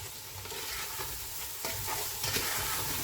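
Vegetables with fresh beans are stirred in a pan while cooking for a vegetable biryani, soft scraping strokes over a gentle, continuous sizzle, close and fairly quiet.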